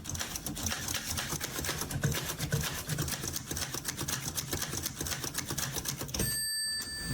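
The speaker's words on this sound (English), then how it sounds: "Wimbledon using a typewriter." A typewriter clatters with rapid, steady keystrokes that carry on for several seconds. The typing is fairly loud and close, and a brief high ding sounds near the end.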